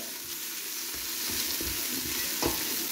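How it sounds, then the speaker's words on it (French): Tomato paste sautés in a pan with spices, oil and butter, giving a close, steady sizzle broken by a few spatula scrapes and stirring knocks. "il faut la faire revenir avec les épices, l'huile, le beurre"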